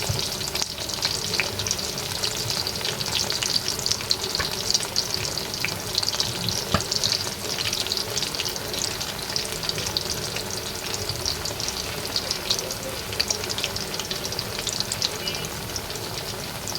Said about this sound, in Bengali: ডুবো তেলেতে ভাজলে দেখা যায় জিনিসগুলো সুন্দর হবে, তাই আমাদের ডুবো তেলে ভাজতে হবে এগুলো